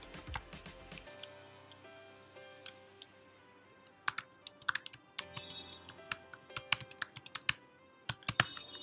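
Typing on a computer keyboard, sparse at first and then a quick run of crisp, close key clicks in an otherwise quiet room, no talking.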